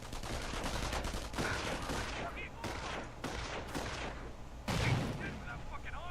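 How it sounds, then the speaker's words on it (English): MG-42 machine gun fire in Company of Heroes, several bursts of rapid shots with pauses between them, alongside other battle noise and a louder blast near the end. "Your squad is taking enfilade fire from that MG."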